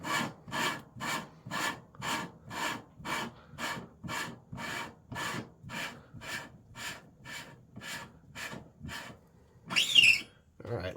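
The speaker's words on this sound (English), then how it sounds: "kind of reapply the compound to the surface. And we'll put it back down on there and grind on it a little more." Grinding compound laps an AR-10 receiver surface in a steady, close rasp, about nineteen even back-and-forth strokes at a bit under two per second, then a brief louder scuff and a pause.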